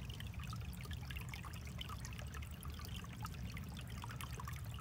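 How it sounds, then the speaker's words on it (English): Water trickling and dribbling in a small outdoor stream on a fall day, a soft, continuous babble with a low rushing undertone and scattered bright splashes, fairly quiet and steady with no voices. "I just like to come down here and listen to this water"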